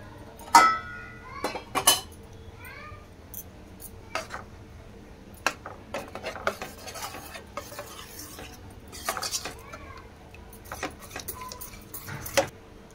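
Melted jaggery stirred into poha simmered in milk for a sweet payasam, with a spoon scraping and clinking against the pot in scattered taps and short strokes, fairly quiet with no talk.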